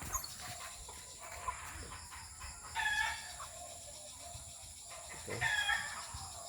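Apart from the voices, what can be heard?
roosters crowing outside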